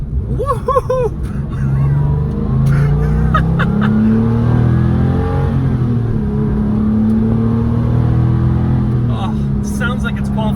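A Porsche 911 Carrera RS (993) engine revs hard and roars steadily, its deep growl rising and falling, with voices and crowd noise mixed in.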